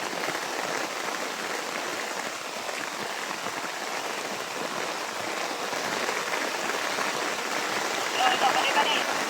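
Steady rain falls on surfaces outdoors, a dense, even hiss that holds constant throughout at close range.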